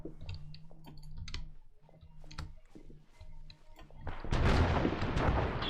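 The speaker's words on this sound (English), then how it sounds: "mortars intermittently dropping on us" Mortar shells land in an ArmA battle. Faint clicks and distant thumps come first, then a louder, broad blast rumbles and lingers toward the end.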